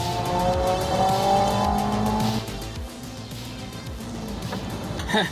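A car on all-season tires runs an autocross course at Evergreen Speedway, its engine droning at a distance, then easing off as the tires squeal briefly through turns.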